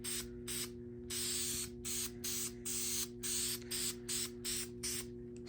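Bursts of spray paint coat cast iron headers on a 1964 hearse, about a dozen short hissing blasts in an uneven rhythm, close and distinct over a low steady hum.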